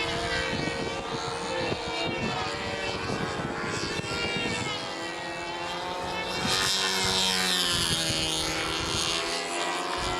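A model airplane flies at the Windy U Nats competition, its propeller engine a steady, loud whine with rising and falling pitch as it passes, joined by a second engine tone partway through.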